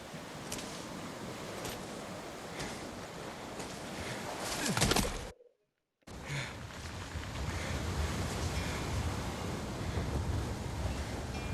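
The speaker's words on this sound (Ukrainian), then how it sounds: "Море." Sea waves wash steadily in Ghost of Tsushima, a broad continuous surf roar with wind that cuts to silence for about a second midway before resuming just as strong.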